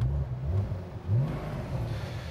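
A Porsche GT2 RS with its exhaust valve closed, engine giving a short muffled rev that swells and drops twice over a low idling rumble, close and fairly quiet.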